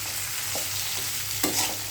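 Chopped pointed gourd fries in a pan with a continuous soft sizzle while a utensil stirs it, scraping briefly a couple of times; no voices are heard.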